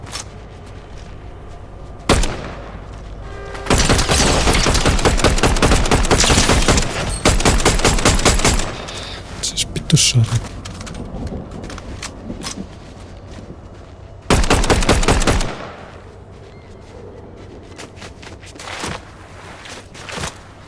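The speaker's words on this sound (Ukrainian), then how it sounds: "Стрілянина йде десь." Rapid bursts of Fortnite gunfire, loud and close, in several volleys separated by quieter stretches of ambient game noise.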